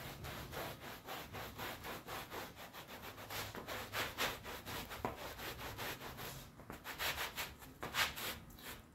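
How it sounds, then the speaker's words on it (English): A towel scrubs back and forth over a carpet mat in quick rhythmic strokes, close and fairly quiet, with no voices over the steady rasping. "And then just scrub your mat, follow back up with another one that's dry."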